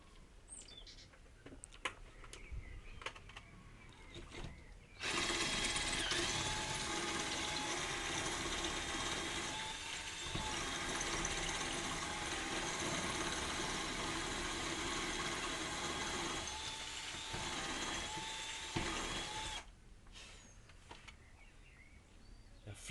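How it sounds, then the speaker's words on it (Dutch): Power drill running in one long, continuous, moderately loud whine for about fifteen seconds, with quieter mechanical clicks and faint birdsong before and after. "Durf echt niet te komen als je aan het boren bent hoor."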